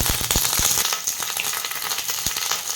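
Panch phoron spices and curry leaves fry in hot oil for an Odia okra and mango besara curry, a loud, close, continuous sizzle scattered with sharp crackling pops, with no talk.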